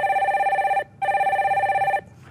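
A telephone rings twice while the next caller is connected on a broadcast call-in show. Each bright, trilling ring lasts almost a second, with a short gap between them, loud and clear with no voices.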